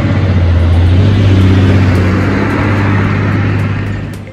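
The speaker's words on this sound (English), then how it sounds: "Due to the considerable and heavy load, this truck struggles to traverse the rough road." A heavily loaded wood truck grinds over rough terrain, its engine a loud, low, steady drone with a labored hum that holds throughout and eases slightly at the end.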